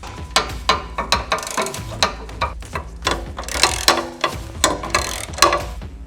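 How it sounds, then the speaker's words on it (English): Ratchet tightening nuts under a RAM ProMaster van while fitting a rear step, a fast series of sharp metallic clicks in repeated short strokes, close and fairly loud with no talking. "I'm gonna go back under the van and tighten up all those nuts we left loose."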